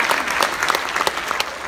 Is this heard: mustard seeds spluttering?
no